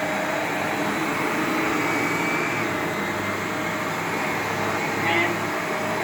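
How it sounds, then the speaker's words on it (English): A Shark Rotator NV501 upright vacuum runs on carpet with its brush roll on, producing a steady, loud, close motor roar and airflow whoosh that holds evenly throughout. "So I'm going to start with a sample vacuuming the carpet."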